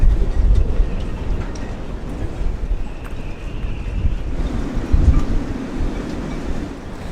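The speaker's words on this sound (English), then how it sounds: "Just going to go outside and see how this wind is going here in the marina, because it seems to be blowing its guts out." Strong cyclone wind gusting through a marina at around 30 knots, a loud, continuous roar with heavy buffeting on the microphone and rumbling surges, no voices.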